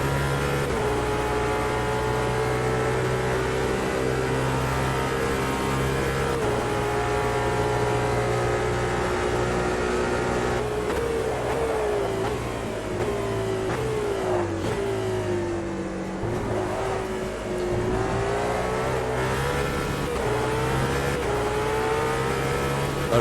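A production Aston Martin Valkyrie hypercar engine in Automobilista 2 howls continuously, its pitch holding, then dropping and climbing again as the car lifts off and reaccelerates, steady and prominent throughout.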